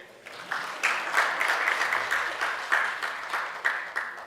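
Workshop attendees at a research outputs event clap together in a moderate, fairly even round of applause with a slightly pulsing rhythm, heard alone without talk.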